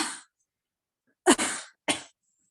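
A sneeze, close and sharp, with a brief breathy burst first, then a strong explosive sneeze followed by a shorter second burst, separated by silence.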